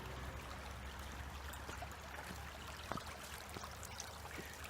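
The River Corfe in Dorset flows steadily in a soft, continuous trickle and babble, fairly quiet and even throughout, with a single brief knock partway through and no voices.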